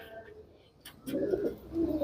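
Pigeons kept by a fancier coo softly nearby, a low throaty murmur rising after a brief quiet pause, with faint chirps earlier in the moment.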